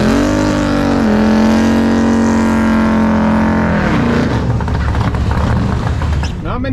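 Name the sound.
Nova drag race car on big Hoosier slicks making a run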